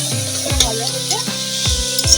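Bottle gourd cooks in a pan in a home kitchen, giving a loud, close, steady sizzle with a few clinks and scrapes of a utensil, while a voice speaks over it.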